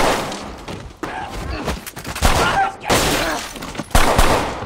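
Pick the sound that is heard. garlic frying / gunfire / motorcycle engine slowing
gunfire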